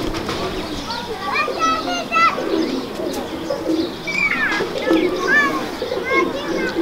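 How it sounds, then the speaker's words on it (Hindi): Domestic pigeons coo in low, soft repeated phrases, with some higher chirps and busy background activity throughout. "आज आपको हमने मुला आसिफ भाई के कबूतर दिखाए"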